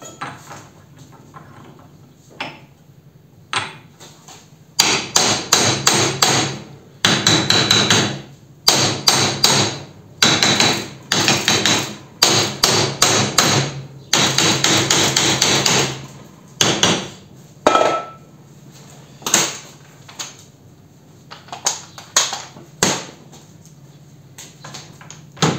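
A Chinese pneumatic chisel hammering on rusted metal, rapid rattling bursts of varying length starting and stopping repeatedly, loud and close, with quieter stretches between.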